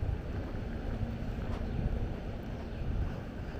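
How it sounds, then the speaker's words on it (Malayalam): Strong wind blowing steadily outdoors before rain, a continuous loud rushing roar with low buffeting against the microphone and no talk. "നല്ല കാറ്റ്."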